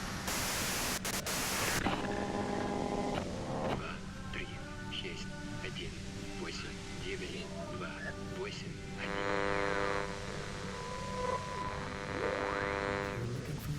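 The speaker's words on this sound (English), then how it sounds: "you can do it through the white noise." Hiss of white noise in the video game Disco Elysium, a steady broadband static bed that lasts the whole stretch, with faint tonal warbles and what sounds like muffled voices drifting through it.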